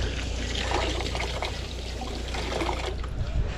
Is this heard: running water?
yes